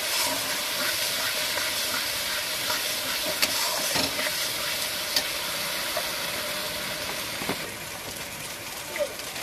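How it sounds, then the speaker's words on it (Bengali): Spice paste with cumin and coriander powder fries in a pan for a jackfruit kofta curry, giving a steady, close sizzling hiss with occasional faint clicks from stirring. "সবকটা উপকরণ একসাথে ভালো করে মশলাটাকে কষিয়ে নেব।"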